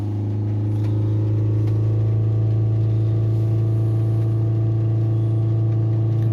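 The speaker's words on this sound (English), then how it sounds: "Hold the revs back up around 3000 RPM." A Ford Transit van engine with a blocked DPF holds steady at about 3000 RPM, a loud, constant mid-pitched drone close by with no speech.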